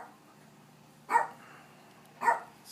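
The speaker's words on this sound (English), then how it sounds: "This goddamn dog." A dog barks twice in short, sharp bursts about a second apart, fairly close and moderately loud over a quiet indoor background with no talking.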